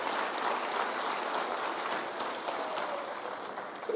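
Graduation ceremony audience at a university applauding, a dense, steady patter of many hands clapping that holds at an even level from start to finish.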